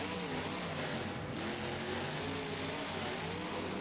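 A monster truck engine in the BeamNG video game revs hard at full throttle, a loud, continuous buzzing roar with rising harmonic whine, heard alone for a few seconds.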